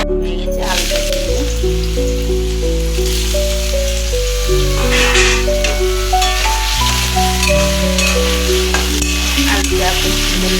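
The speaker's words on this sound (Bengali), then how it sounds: "আলুটা এখন সুন্দর লাল ভাজা হয়ে গেলে পেঁয়াজটা দিয়ে দেবো" Potato pieces fry loudly in a pan, a dense constant sizzle close up, with steady tonal music playing underneath and no talking.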